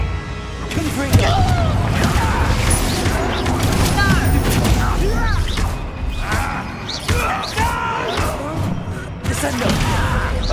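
The Confringo blasting spell in Hogwarts Legacy, a stream of repeated booms, crashes and impacts rolling through busy combat, with a voice calling out over the din.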